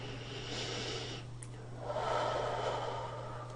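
Soft, slow breathing during a guided aura meditation, with an audible inhale and a longer, airy exhale over a faint steady hum in a quiet room.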